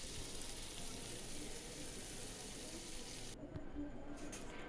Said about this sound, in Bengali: মাছগুলো হালকাভাবে বিছিয়ে বিছিয়ে ভেজে নিচ্ছি